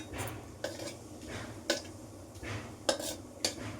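Bay leaf and cumin are stirred in hot oil, a soft sizzle under repeated clinks and scrapes of a spoon against the pan.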